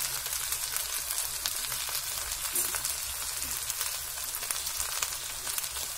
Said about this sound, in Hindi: भिंडी डालनी है ये हमने भिंडी डाल दी है